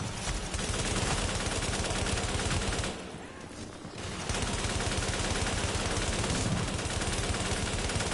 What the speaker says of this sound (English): I am pulling out my shield and shooting things.